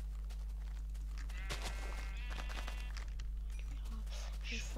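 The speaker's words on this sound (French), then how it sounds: "Ah ouais, avec des moutons blancs aussi." Sheep bleating in the video game Minecraft, a few short wavering bleats over a steady low hum, with faint footsteps and light clicks and someone speaking quietly.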